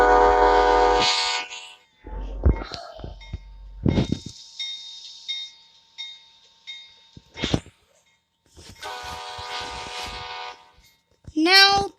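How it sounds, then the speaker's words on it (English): An Amtrak train in New Jersey passes with loud, drawn-out horn blasts, several separate bursts with quieter rumbling gaps between them, close and strong, with a voice talking in places. "That's the horn. Welcome to New Jersey, Amtrak train."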